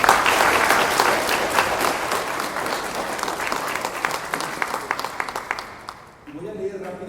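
An audience applauds a doctor presenting his book at a cultural centre, steady dense clapping for about six seconds that fades, then a voice begins speaking.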